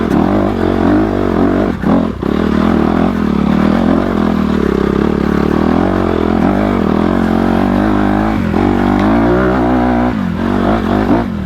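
A 2020 Honda CRF250RX dirt bike ridden on a rocky, hilly trail without the clutch, its engine loud and close throughout, revving and surging with occasional clatter and scrapes.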